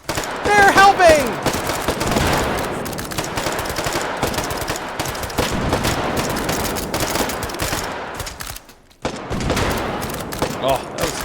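Dense, continuous gunfire from the VR shooting game H3VR, with a loud opening burst and a long sustained stretch of shots, a brief drop near the end, and some voice underneath.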